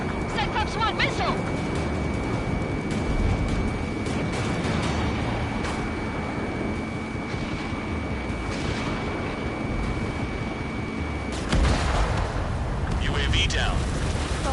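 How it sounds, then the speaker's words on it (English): Ace Combat 7 air combat fills the air with a dense, roaring wash of jet noise as a missile launches, and a sharp explosive burst breaks through near the end, with voices talking over it. "Spare 15, launching missile."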